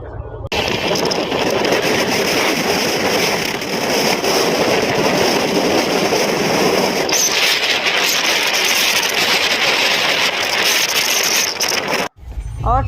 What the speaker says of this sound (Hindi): ट्रेन ने अपनी गति पकड़ ली है और हम अच्छे स्पीड से आगे बढ़ चुके हैं।